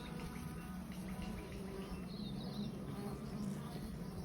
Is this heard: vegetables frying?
no